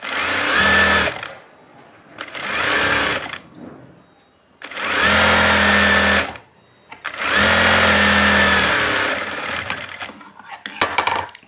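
A sewing machine runs in four loud bursts with short pauses between them, stitching a folded blouse hem.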